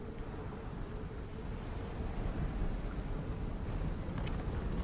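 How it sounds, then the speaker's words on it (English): A sulfuric storm in the survival video game Icarus sends steady, dense rain pouring with a low rumbling undertone, a constant roar with no talk. "Alright, this sulfuric storm is almost over."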